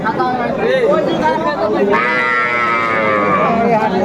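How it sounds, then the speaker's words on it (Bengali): Cows mooing at a cattle market in Aftabganj, Dinajpur, where cows with calves are sold: two loud nearby moos, the second long and drawn out, over a bed of crowd chatter. "চমৎকার গাভী বাচ্চা আমরা দেখছিলাম"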